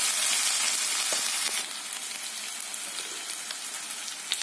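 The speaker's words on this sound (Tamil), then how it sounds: "பொன்னிறமானதும் இஞ்சி பூண்டு விழுது. இது ஒரு 5 நிமிஷம் நல்லா பச்சை வாசனை போட்டு வதக்கிட்டு" Ginger garlic paste sautéing in hot oil for a ridge gourd curry: a loud, steady, close sizzle and crackle that settles slightly after the first moments, with no talking.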